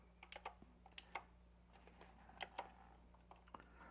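Keys clatter on a Royal Kludge G87 tenkeyless gaming keyboard with clicky blue switches, irregular sharp clicks spaced over a few seconds, quiet and close against a faint steady hum, with no talking.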